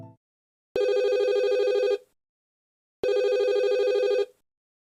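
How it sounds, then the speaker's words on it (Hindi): Telephone bell ringing loudly and close, two long bursts of about a second each separated by a short silence. "फोन की घंटी बजी।"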